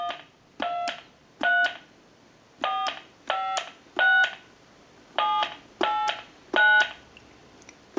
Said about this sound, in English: Go ahead and redial.